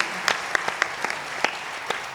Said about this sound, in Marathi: आपण सगळ्यांनी मिळून या टीचर्सना, मावशी, काकांना जोरदार टाळ्या देऊया